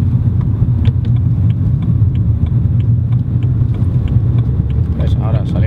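A BMW 3 Series E92 pulls away and accelerates on the road, its engine a loud, steady low rumble heard from inside the cabin, building through the revs while someone talks over it.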